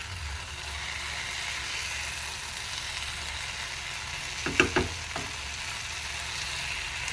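Breakfast potatoes frying in a skillet give a steady, even sizzle throughout, with a few brief clicks and clatters midway, likely a utensil touching the pan; no one speaks.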